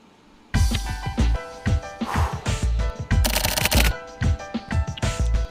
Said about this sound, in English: Now the explosions start.